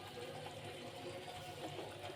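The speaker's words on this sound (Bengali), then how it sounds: "মানে ব্লেন্ডারটা একটু ধুয়ে একটু পানি দিয়ে দিলাম" Rinse water from a blender jar pours into a pot of potatoes and coconut paste, making a continuous close gushing, splashing stream with no pause.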